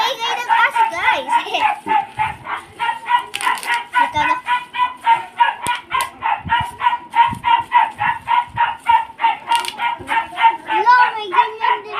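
A dog barks in a fast, steady run of yips close by, continuing through the whole stretch while a person talks over it.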